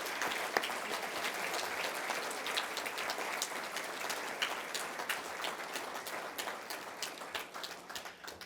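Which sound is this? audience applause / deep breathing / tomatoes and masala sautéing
audience applause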